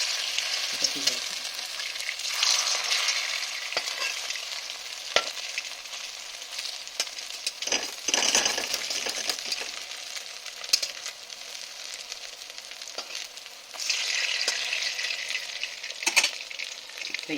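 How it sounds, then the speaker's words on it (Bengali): Boras, vegetable fritters, sizzle steadily in hot oil in a pan, a continuous bright crackle with occasional louder pops and stirring scrapes, close and unbroken throughout. "এই যে বড়াগুলো ভাজছি"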